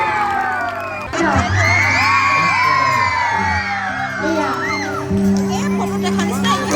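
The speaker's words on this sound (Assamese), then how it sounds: "এটা ডাঙৰ হাত চাপৰিৰে আমি তেখেতক আমন্ত্ৰণ জনাইছোঁ" A crowd at an outdoor Bihu stage show cheers, whoops and shouts loudly and continuously to welcome a singer, with children's voices mixed in and a droning tonal background beneath.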